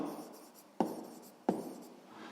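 Pen or chalk writing numbers during a sixth-grade maths lesson, a soft scratchy stroke followed by two sharp taps, close and quiet.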